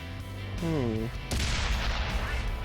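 A Japanese Chi Nu Kai premium medium tank in World of Tanks fires a loud booming shot that rolls into a rumbling blast, preceded by a brief rising whine, with game engine hum throughout.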